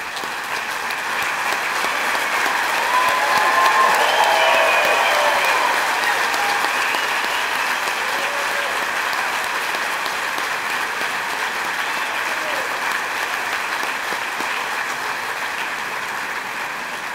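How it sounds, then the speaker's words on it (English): Sustained audience applause at a Veterans Day program honoring World War II veterans, a dense, steady wash of many hands clapping that swells slightly early on and holds at an even level throughout. "Please join me in honoring all of our veterans with the applause they deserve"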